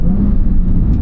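A naturally aspirated 2014 Porsche 911 Carrera 4S (991.1) engine runs loud and close with a deep, throaty rumble, holding a steady revving drone for a brief moment.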